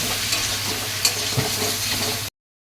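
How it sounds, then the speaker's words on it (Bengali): Vegetables with cumin and chili powder are stirred in a hot pan, giving a loud close sizzle with scraping stirs and a couple of light knocks before the sound cuts off abruptly, with no talking. "তো এবার আমি ভালো করে নেড়ে চেড়ে নিলাম।"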